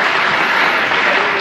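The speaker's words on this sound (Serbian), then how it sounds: "Nije za aplauz, uopće." Studio audience breaking into a short burst of loud, dense applause, close and continuous with no voices.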